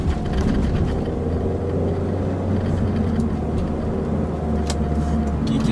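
Automatic transmission kicking down in a 2008 VW New Beetle, a steady engine and road drone inside the car with a brief mechanical shift in the middle and a faint click later.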